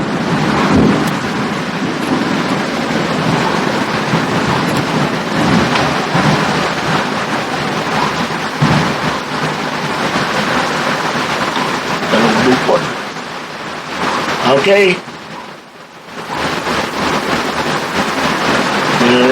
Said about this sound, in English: There's a heavy rain going on.